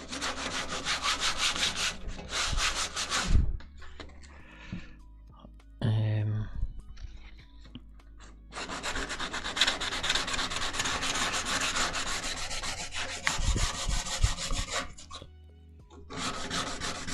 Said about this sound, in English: So all I'm doing just now, for anyone that's interested, is I'm scuffing the paint